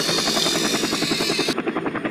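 A cartoon helicopter flies close by in a steady, loud rotor buzz with a rapid chopping pulse, continuous for about two seconds.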